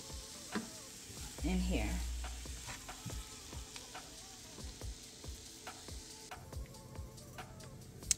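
Vegetables for cauliflower vegetable fried rice fry in a pan, a soft steady sizzle with scattered clinks and scrapes of stirring, and a brief spoken comment over it.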